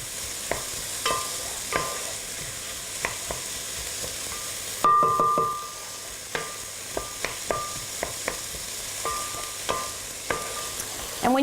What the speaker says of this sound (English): We're just softening the onion here a little bit, browning it up and softening it.